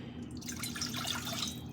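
Cold tap water pours into a measuring cup in a short, close splashing trickle over a faint hum.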